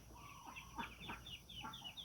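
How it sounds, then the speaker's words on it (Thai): A mother hen penned with young chicks in a backyard clucks softly and quickly while higher chick peeps chirp around her, faint and close. "แม่ไก่แม่ลูกอ่อนเนาะค่ะ"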